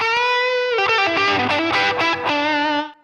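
A distorted electric guitar plays a short solo phrase of sustained, gritty bent notes, loud and close, ending with a fade.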